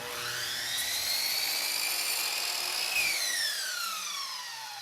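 A miter saw set to a 22.5-degree left angle whines steadily through a polyurethane crown molding piece, its high pitch rising at the start and falling as the blade spins down near the end, loud and alone.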